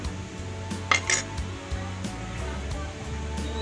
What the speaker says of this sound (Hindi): इन सब चीज़ों को मिक्स कर रही हूँ।